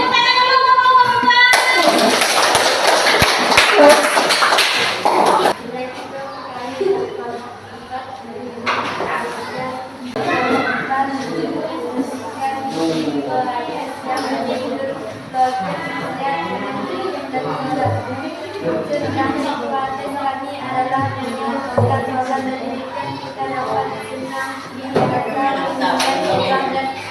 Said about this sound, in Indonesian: Boleh tepuk tangan dulu untuk kelompok